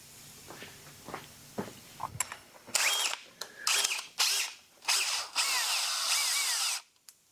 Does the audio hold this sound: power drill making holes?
yes